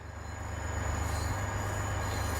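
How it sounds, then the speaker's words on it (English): A video-game DB BR 363 locomotive train rumbles and rolls steadily, its low, loud drone building slightly as it gets moving with brakes still on, with faint metallic squeal above. "It's finally moving."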